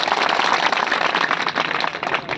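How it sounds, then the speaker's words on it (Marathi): A crowd at a hunger strike gathering bursts into loud, dense applause, many hands clapping steadily and close for the whole stretch, with no voices above it. "त्यांच्यासाठी एकदा जोरदार टाळ्या होऊ द्या."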